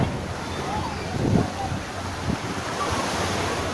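Rough sea waves slap and wash against a boat in strong wind, a steady roar of surf with wind buffeting the microphone and a couple of heavier surges.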